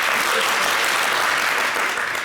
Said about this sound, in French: Bon, le public ici, est-ce que vous pouvez applaudir?